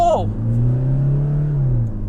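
A Toyota Fortuner facelift's engine revving steadily in sports mode, a sustained rising drone that holds for about two seconds, loud and close, without talk over it.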